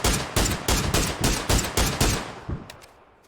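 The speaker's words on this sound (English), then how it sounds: "A lot of bullets going in his direction, but Kai'Ma will be able to survive." Gunfire in the video game PUBG: about eight loud, evenly spaced shots in quick rhythmic succession, then a couple of fainter, more distant reports as the sound fades out.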